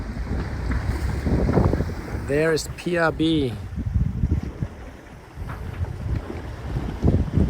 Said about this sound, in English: And I believe that's some new wind.